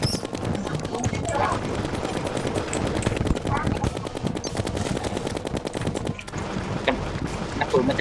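Rapid, continuous gunfire from a weapon in Terraria, played in expert mode with two players, sustained machine-gun-like rattling throughout with faint voices underneath.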